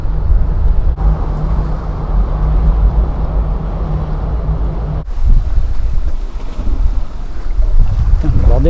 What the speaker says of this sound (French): C'est impressionnant les gros bateaux de nuit.